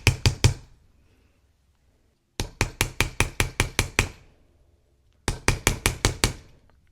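A chasing hammer strikes wire on a hard block while earrings are being made, in three quick bursts of sharp metallic taps, three then nine then six, with short silences between and no voices.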